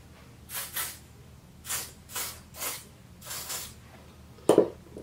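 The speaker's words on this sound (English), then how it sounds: "So I sprayed some onto my hands" Foundation sprayed from a pump bottle onto hands during a makeup routine: a run of seven or eight short, soft hissing spray bursts in an irregular rhythm, close and moderately quiet, followed by a sharper click-like burst near the end.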